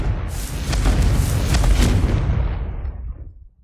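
A Confringo blasting spell goes off in Hogwarts Legacy as one loud, close, deep booming explosion that swells at once and rumbles on for a few seconds before fading out, with no voices during it.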